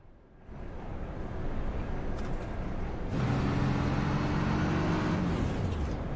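Onboard a race truck in an LSR truck series, its engine idling low at about 500 RPM: a steady, close, rumbling drone that deepens into a throbbing low hum in the second half, with no talk.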